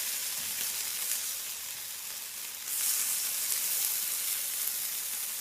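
Breakfast sandwich filling sears in oil in a pan, giving a constant bright sizzle and crackle that swells a little louder halfway through, with no talking.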